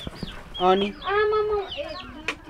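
Chickens cluck and squawk close by in a rural Nepali village, several short calls in quick succession over about two seconds, with a brief spoken word among them.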